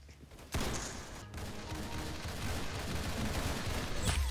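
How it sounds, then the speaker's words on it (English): Rapid gunfire in the Roblox shooter game Arsenal rattles on steadily for several seconds, a dense stream of shots mixed with game noise. "Very good shooting."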